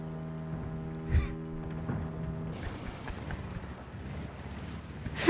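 The Ashigaru tank engine in a video game gives a steady buzzing, strimmer-like drone that runs for a few seconds before windy, rushing noise swamps it.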